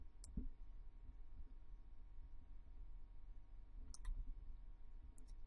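A computer mouse clicks on an amount in business software: three sharp, faint, close clicks, spaced seconds apart over quiet room hum.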